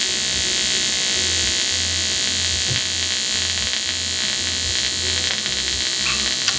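A TIG welding arc on aluminium while a welding cart is built gives off a loud, steady electric buzz with a harsh hum that holds at an even level throughout, with no talking.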